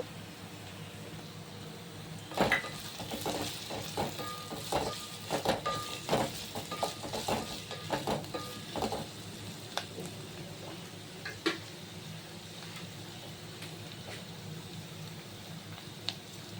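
Curry leaves and onions fry in a pan for buttermilk rasam, a faint steady sizzle with a burst of crackling and stirring scrapes early on, then settling to a low hiss.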